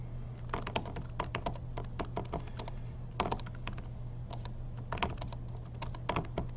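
Keys clatter on a computer keyboard in irregular bursts of close, crisp taps over a steady low hum, typing an email message with no one speaking.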